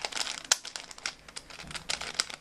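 A speed cube set to a loose tension is twisted quickly by hand, producing a close, steady run of dry plastic clicks and rattling crinkles with a few sharper snaps and no talking.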